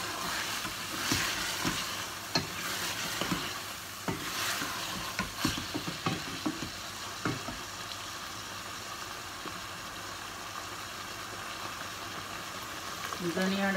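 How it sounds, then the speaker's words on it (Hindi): Minced keema fries in a pan while a spoon stirs it continually. A steady sizzle runs underneath repeated scraping knocks that come close and fairly faint, with light talk in the background. "जितना भी है भूनते रहना है और चम्मच को चलाते रहना है"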